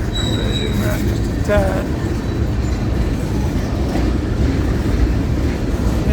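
FEC 101 freight train rolling past with a long block of garbage cars hauling trash from Miami toward a Georgia landfill, a steady close rumble of wagons with faint wheel squeal and clatter, and a brief voice speaking.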